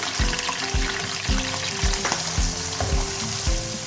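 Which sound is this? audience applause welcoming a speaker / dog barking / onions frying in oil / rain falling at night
onions frying in oil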